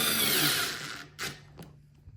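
A 3.7V cordless electric screwdriver whirs at maximum torque in a short burst that cuts off after about a second, followed by a couple of brief clicks, close and fairly quiet.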